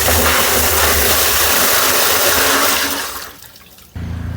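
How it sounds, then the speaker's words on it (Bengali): Dissolved jaggery liquid pours into a container in a loud continuous splashing gush that tapers off near the end before a low hum resumes, with no speech. "বন্ধুরা, আমরা আলাদা জায়গায় গুড়টিকে গুলে এর মধ্যে ঢেলে দিচ্ছি।"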